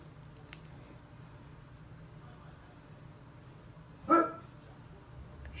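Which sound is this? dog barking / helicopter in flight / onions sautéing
dog barking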